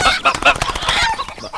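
Loose chickens cluck and squawk in quick, agitated bursts close by, with a voice speaking briefly in between.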